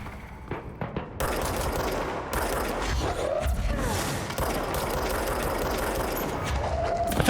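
Automatic gunfire rattles in Control, a sustained stream of rapid shots layered with rumbling game effects and impacts, loud and continuous after a few scattered opening bursts.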